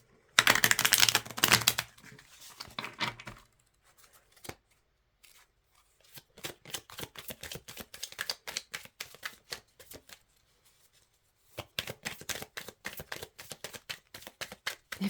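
Tarot cards riffle and snap in quick bursts, a loud flurry at first, then rapid crisp ticking shuffles in stretches with brief pauses between.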